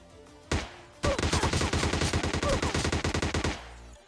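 Gunfire in a battle royale video game: a single loud shot, then a rapid sustained burst of automatic fire with evenly spaced cracks lasting about two and a half seconds before stopping.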